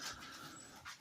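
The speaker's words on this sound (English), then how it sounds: "So you can hear the dog in the background." A dog pants quietly in the background, a soft, steady breathy rhythm that stays faint throughout with no talking.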